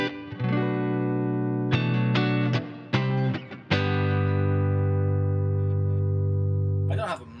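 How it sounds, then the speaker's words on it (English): Electric guitar notes and chords through an inexpensive, massively heavy compressor pedal, heavily compressed and sustained, with a few quick staccato hits before a long ringing chord; no talking. "Have a massively heavy compressor. You can kind of hear it when I hit down."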